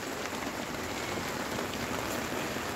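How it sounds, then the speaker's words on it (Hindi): Heavy rain pours down during a storm in a jungle at a nomadic shepherd's camp, a dense, steady, unbroken hiss that holds at the same loudness throughout, with no voices over it. "और अब बारिश बारिश बड़ी भारी हो रही है भाई यहाँ पे, बहुत ज्यादा बारिश चल रही है"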